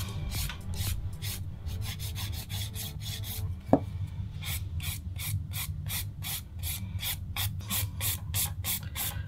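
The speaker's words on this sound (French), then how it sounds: "limer notre ongle, d'abord les côtés, donc le bord libre, la zone des cuticules," A nail file rasps against a fingernail in quick, regular back-and-forth strokes, close and crisp, with a brief pause and a tap in the middle before the rhythmic filing resumes.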